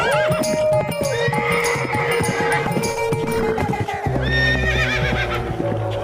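A horse whinnies loudly several times in a row while hooves clip-clop beneath, close and continuous, with a few bleating animal calls mixed in.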